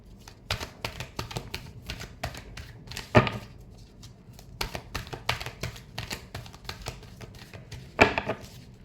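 Tarot cards being shuffled by hand, a quiet series of soft crisp riffling taps in uneven bursts, with a couple of louder slaps, close and alone.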